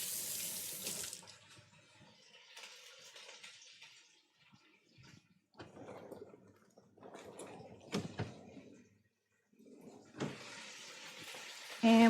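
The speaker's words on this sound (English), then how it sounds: "Let me give my hands a quick rinse." A kitchen tap runs for a short rinse of hands, first as a bright hiss of water. Quieter clatter and shuffling follow, then the tap gushes again at the end. No one speaks.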